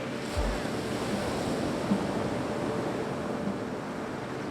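Surf rolls and crashes into an inlet at Rehoboth Beach, Delaware, while wind rushes across the microphone, a loud, steady roar with a brief low thump early on.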